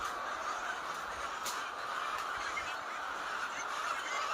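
A dense, steady din of many egg-laying chickens clucking and squawking together on a poultry farm, continuous and fairly loud throughout.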